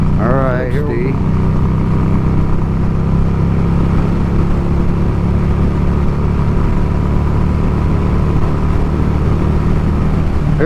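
A Street 500 motorcycle engine drones steadily and loudly while riding and accelerating through the gears, with a constant wind-buffeted roar throughout and a brief rising rev near the start.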